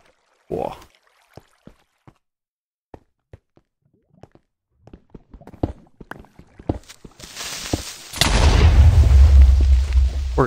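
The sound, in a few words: explosion in the video game Minecraft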